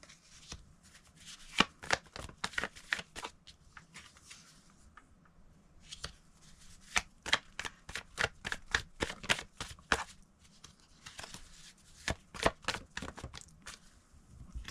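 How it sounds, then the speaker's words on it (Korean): Tarot cards being shuffled by hand, quick crisp riffling and flicking bursts repeating in irregular clusters, close and fairly quiet, with no talking. "집중해서 카드 뽑아볼게요"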